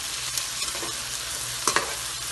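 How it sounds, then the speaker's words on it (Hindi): Garlic and ginger frying in oil in a pan for a keema dish, a continuous bright sizzle with a few louder stirring scrapes, close up and without voices. "लहसुन डालेंगे, अदरक डालेंगे और इसको हल्का सा कलर आने देंगे।"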